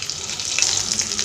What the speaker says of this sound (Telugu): లైట్గా పోపు వేద్దామని పోపు కూడా వేసానండి. ఇది చిటపట్లాడేదాకా వెయిట్ చేయాలి.